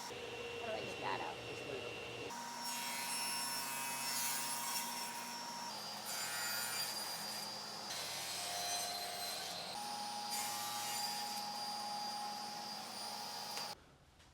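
A saw cuts wood boards to length in a steady run of long, whining passes separated by brief pauses, close and continuous under a constant motor hum.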